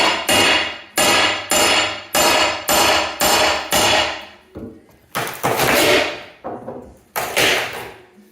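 Hammer strikes ring out loud and close while a staircase is rebuilt, a rapid run of evenly spaced blows followed by a few heavier, irregular hits.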